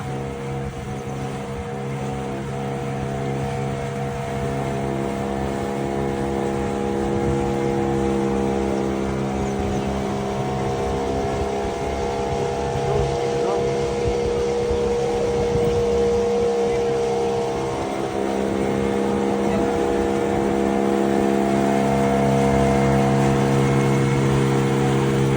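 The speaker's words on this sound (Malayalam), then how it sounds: "Normal motor boat sir." A normal motor boat engine drones steadily and continuously nearby for the whole stretch, a low humming rumble with people talking intermittently over it.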